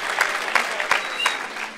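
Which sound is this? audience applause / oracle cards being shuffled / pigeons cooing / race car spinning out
audience applause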